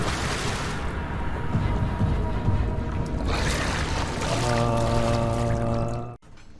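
In Amnesia: The Dark Descent, a character wades through waist-deep water, producing continuous sloshing and splashing up close, later joined by a steady low tonal drone before a sudden cutoff.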